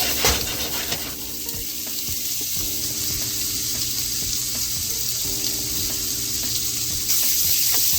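Beef sausage pieces searing in a pan, a steady loud sizzle with crackling spits running continuously throughout, close and alone without talk.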